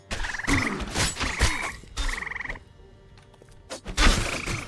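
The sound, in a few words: frogs croaking in video game Embers Adrift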